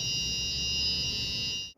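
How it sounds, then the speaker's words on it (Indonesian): The buzzer of an Arduino-based fire detector, set off by smoke, gives one steady, high electronic tone that holds for almost two seconds and then cuts off abruptly. "maka lampu LED dan buzzer akan menyala."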